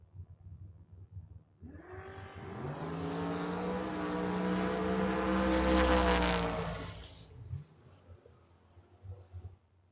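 Drag racing cars, one a Mustang, roar down the strip at a door-car drag event, a rising engine howl that builds to a loud peak midway before fading, leaving a faint rumble.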